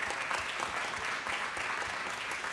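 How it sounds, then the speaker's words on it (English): Dense, steady applause from an audience at a city council meeting fills the whole stretch at an even level, with many hands clapping together and no speech standing out. "Let's give them a big round of applause."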